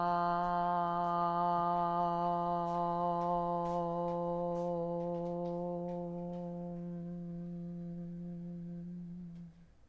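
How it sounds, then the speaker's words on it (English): A single voice holds a long, steady low chanted AUM for about ten seconds, rich in overtones, gradually darkening and softening as the mouth closes toward a hummed mm before cutting off. "slowly and gradually begin making the opening a little bit smaller until you get to mm."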